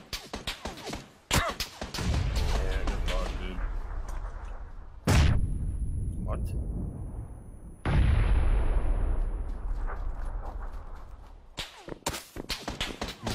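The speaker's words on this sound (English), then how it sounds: "Both teams are shooting me." Gunfire in PUBG: sharp cracking shots come in bursts, some distant and some close, with loud reports that ring out and decay while other shots fire in the background.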